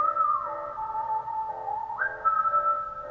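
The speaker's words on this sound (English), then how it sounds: "Whoa! That whistle!" A whistled melody from a music video plays alone, with clear sustained tones that glide and then jump up in pitch over about three seconds.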